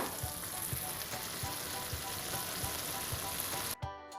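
Sweet and sour sauce thickened with cornstarch is stirred in a pan for carp, a steady bubbling sizzle with regular scraping strokes of the spoon, close and continuous, cutting off abruptly near the end.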